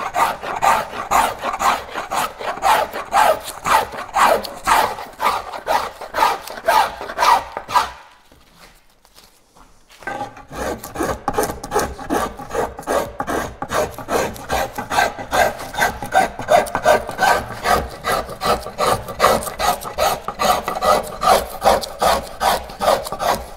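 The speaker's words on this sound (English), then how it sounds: "you will get so much skill from planing all the sides here" A hand plane shaves the sides of a wooden paddle in fast, rhythmic rasping strokes, loud and close, with a brief pause partway before the steady planing resumes.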